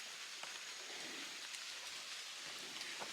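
Light drizzle falls on the Appalachian Trail, a soft, steady hiss of rain with scattered faint drops tapping nearby.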